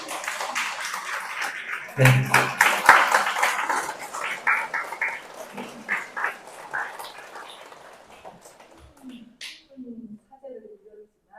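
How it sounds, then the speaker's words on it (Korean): A church congregation claps for a priest's mother during Mass, a burst of applause that starts sharply, swells, then thins out, with someone speaking before and after. "박수 한번 쳐주세요."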